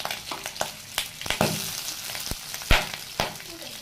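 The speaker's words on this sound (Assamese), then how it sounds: "ইয়াতে কেইটামান গাহৰি মাংস দি দিছোঁ। গাহৰিখিনি মই এক্সট্ৰা তেল ইউজ কৰা নাই। এইখিনি অলপ সময় এনেকৈ ভাজি ল'ম।" Pork pieces frying in a kadai with no extra oil added, a steady close sizzle broken by sharp spatula scrapes and taps against the pan, with no voices.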